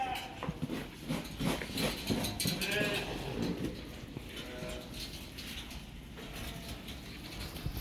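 Sheep bleat on a farm at closing time, several calls rising over a busy, noisy pen with other livestock sounds in the background.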